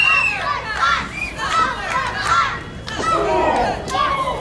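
Crowd at a wrestling event chanting and shouting in rhythmic, swelling waves, loud and close, with several voices rising above the mass.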